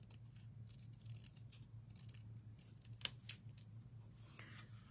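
Scissors snip paper to trim it for an art journal page, with soft, close cuts in a quiet room and one sharper snip near the middle, no talk.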